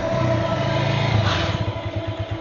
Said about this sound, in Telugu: ఏంటి సార్ ఇంత ట్రాఫిక్? ఏం ప్రాబ్లము?